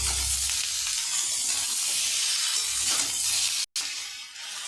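Salt, cumin powder and turmeric are stirred into an amudi fish curry with beans, potato and eggplant in a pan, giving a continuous close sizzle and frying hiss, cut by one brief gap near the end.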